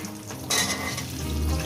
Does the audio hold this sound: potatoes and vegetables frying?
yes